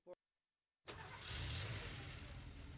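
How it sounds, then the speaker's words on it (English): A brief click, a moment of silence, then a car engine turns over and settles into a steady, loud running hum. "That's the sound of an engine running"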